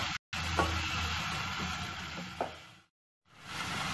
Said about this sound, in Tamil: இப்போ இதை நல்லா அந்த ஒயிலோட ஃப்ரை பண்ணி கொள்ளுவோம்